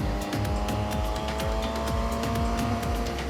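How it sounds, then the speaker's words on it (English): Motorbike engine running hard at speed, a loud continuous note with rising and falling pitch sweeps as the revs change, close and alone without talk. "Have a listen to this engine note"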